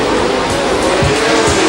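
Formula 1 cars of the early 1970s Stewart and Fittipaldi era roar away from the grid at a race start, a dense, loud wall of high-revving engines blended with crowd noise, continuous and unbroken.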